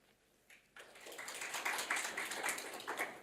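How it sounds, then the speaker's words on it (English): An audience at a European oncology patient congress breaks into applause, which swells from quiet to a steady wash of clapping that holds at moderate volume, heard from within a large hall. "Please welcome with applause."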